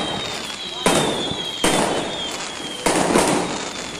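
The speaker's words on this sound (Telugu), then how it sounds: "అదేదో లక్ష్మీ బాంబు కాల్స్తున్నాడు" Lakshmi bomb firecrackers burst during Diwali celebrations, three sharp loud bangs spaced about a second apart, each followed by a crackling, lingering outdoor wash, with a faint whistle and people talking in the background.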